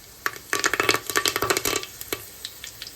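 Whole spices with cumin and mustard seeds crackling and sizzling in hot oil, a quick cluster of sharp pops that thins to scattered crackles, close and fairly quiet.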